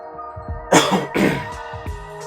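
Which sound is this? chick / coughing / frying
coughing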